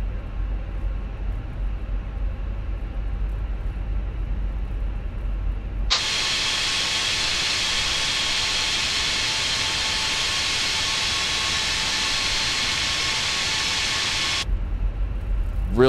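Airbus A320 jet engines in a flight simulator spool up into a loud, steady broadband roar that cuts in abruptly over a low idle rumble, holds evenly for several seconds, then drops back to the quieter idle.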